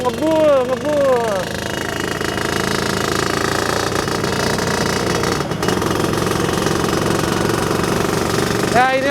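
A Suzuki Satria 120R two-stroke motorcycle engine runs nearby with a steady, raspy idle and rattly knocking throughout, while a person talks over it at the start.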